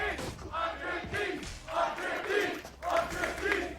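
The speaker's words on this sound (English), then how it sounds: "You can hear the crowd trying to will the defensive side to a 5th" An esports arena crowd at a Valorant Champions Tour match between 100 Thieves and Leviatan, chanting and roaring in loud rhythmic surges that rise and fall across several seconds.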